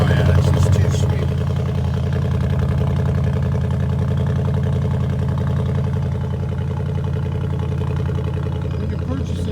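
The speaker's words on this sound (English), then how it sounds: "2017 Bentley, the V8. So I wanted to get the sound on it. Go ahead, fire it up." 2017 Bentley Continental GT with a V8 engine idling steadily and loudly up close, a smooth, even rumble that holds without a break, with no start-up heard.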